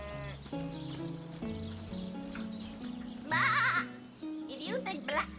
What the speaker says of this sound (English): I wonder if I can talk to this sheep